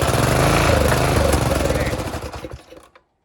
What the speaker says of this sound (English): Now y'all see that engine just fired up and run.